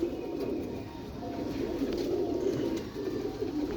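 Low, throaty cooing from several pigeons rolls on steadily at close range with no talking.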